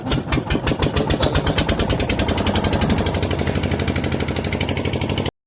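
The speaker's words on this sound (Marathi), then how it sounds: "बोट चालू इथून समोरून" A fishing boat's engine chugs loudly and close in a fast, steady mechanical pulse, each beat sharp and evenly spaced for the whole stretch.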